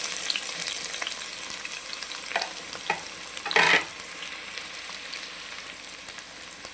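Chopped onions frying in hot oil with cardamom and green chillies for veg pulao, a steady close sizzle with scattered crackles and one brief louder stirring scrape midway.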